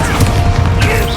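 Hogwarts Legacy's Confringo explosive spell goes off as a loud, dense rumbling blast with crashing texture, sustained across the short moment.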